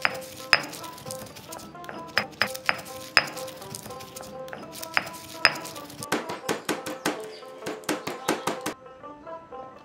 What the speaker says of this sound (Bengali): এতে করে যে গোটা মশলাগুলো আমি দিয়েছি ভালো কোটা হবে